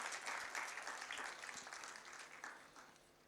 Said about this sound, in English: Can we get a little round of applause?